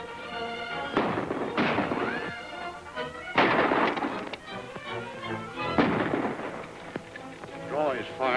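Gunfire in an old Western serial shootout, several loud, sharp reports spaced a second or so apart, each with a short echo, heard close and without talking.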